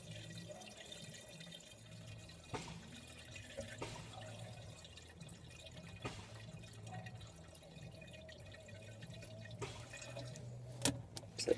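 Coolant runs from a tipped bottle into a car radiator as a steady, quiet liquid trickle with faint drips and small splashes, close by and with no voices.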